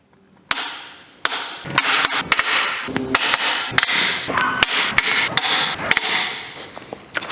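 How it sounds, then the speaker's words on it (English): Engine main cap bolts are broken loose during bottom end removal on a Mazda MX5 VVTurbo engine, giving loud, close, sharp cracks and tool knocks in quick irregular bursts over a steady mechanical clatter, with no talking. "I will lose the bolts in 3 stages."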